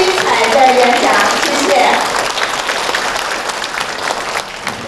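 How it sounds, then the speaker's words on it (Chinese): A lecture audience breaks into warm applause, a dense wash of clapping that starts loud and gradually tapers off, with some voices briefly audible at the start. "我们用热烈的掌声谢谢张教授精彩的演讲"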